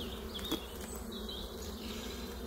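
A honeybee swarm buzzing around a hive, a dense steady hum of many wings close by, with individual bees droning past and a brief knock partway through.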